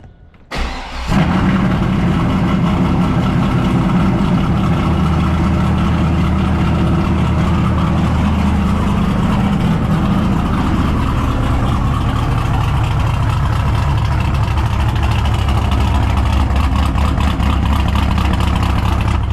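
A motorcycle engine cold start: it cranks and catches after about a second, then settles into a loud, steady, rumbling idle that runs on without a break.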